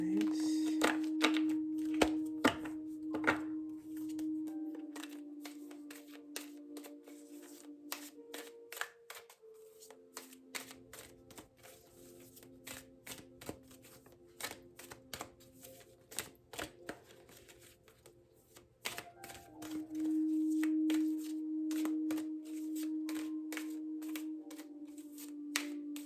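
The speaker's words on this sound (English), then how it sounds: "let me go ahead and do a regular shuffle" A deck of playing cards being shuffled in a regular shuffle, with a run of rapid riffling clicks and flutters, then handling and tapping of the cards, close and fairly loud, with a low steady hum underneath.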